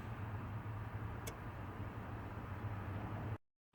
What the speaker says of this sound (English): As you can hear, my car is running